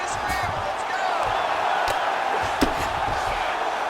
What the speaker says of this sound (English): crowd just loving it